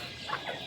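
Chickens cluck softly in a rooftop coop holding a native rooster and hen, two short calls rising over a steady background hum, fairly quiet and brief.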